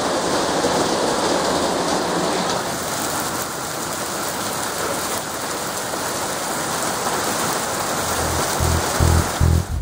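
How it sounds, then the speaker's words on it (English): Steady spring rain in New Zealand falls just after a hailstorm, a dense, constant hiss of drops on surfaces with a few soft low thumps near the end. "Rain in springtime."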